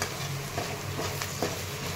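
Steady sizzling of curry leaves and ground paste frying in hot oil for tomato moong dal, a continuous hiss with faint stirring clinks, no voices.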